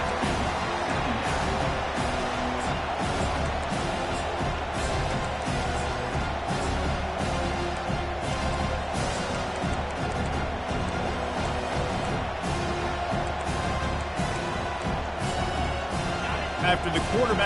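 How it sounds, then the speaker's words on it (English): Stadium crowd roar in the College Football 25 video game, a constant dense wash of cheering and noise that runs under almost continuous commentary. "This crowd bringing the energy and noise early."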